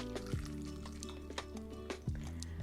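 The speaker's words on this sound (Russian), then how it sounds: "Выливаем к тыквенному пюре, выливаем мы сливки" Cream poured into pumpkin puree in a deep bowl, a quiet close liquid pour with soft glugs and drips.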